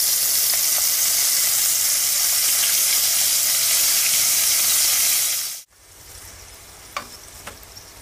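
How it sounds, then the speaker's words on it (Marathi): Flour-dusted mushrooms fry in hot oil with a loud, steady sizzle that cuts off abruptly, followed by quieter kitchen sounds and a few light clinks. "अशा प्रकारे हे मी ह्या तेलामध्ये चांगले फ्राय करून घेतलेले आहेत"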